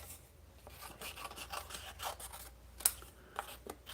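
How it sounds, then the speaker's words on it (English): Scissors snipping through paper while fussy cutting around printed shapes for a spring-themed green craft project, a series of close, quiet rustling cuts and rubs with one brief sharp snip near the end. "So I'm gonna fussy cut these."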